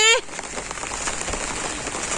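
Steady rain patters down on surfaces in a rural village setting, a dense, even wash of drops heard close and continuous after a brief tonal sound at the very start.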